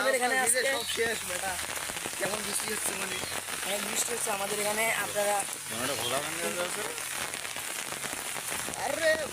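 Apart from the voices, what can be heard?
heavy rain falling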